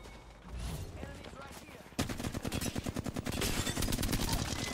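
Gunfire in the video game Apex Legends: a few scattered shots, then a sudden loud burst of rapid automatic fire that keeps going in dense rattling volleys, close and continuous, with a voice now and then underneath.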